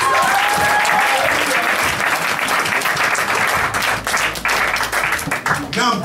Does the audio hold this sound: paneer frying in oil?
no